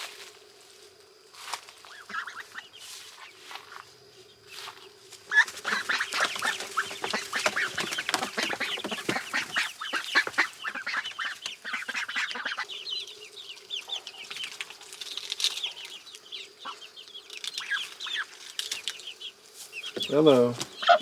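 Ducks huddled at the base of a duck ramp give several bursts of calling and clucking, close by, mixed with chicken sounds and a steady low hum, with a louder flurry near the end.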